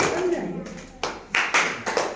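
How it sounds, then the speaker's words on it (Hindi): Hands clap in sharp bursts during a group rhythm game called the rail train clap in a classroom workshop, several loud claps spaced unevenly over a murmur of voices and talk. "चलो रेलगाड़ी ताली चल दो"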